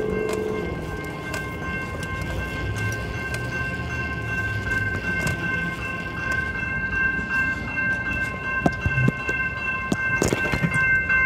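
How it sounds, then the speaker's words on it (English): A train rolls past on railroad tracks, a continuous rumbling clatter of wagons with steady tonal squeal and occasional sharp clanks near the end, moderately close and without talk. "Another train coming."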